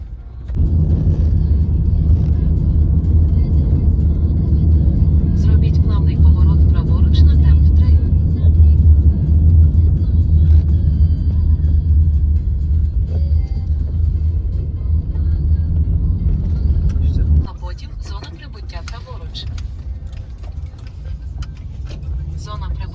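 Car driving on a road, a loud steady engine and road rumble throughout, dropping to a quieter drone near the end with faint clinks and people talking.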